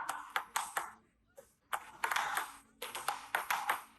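Table tennis ball struck with forehand strokes, a series of sharp, bright pings and taps in quick irregular bursts, close and alone with brief silent gaps.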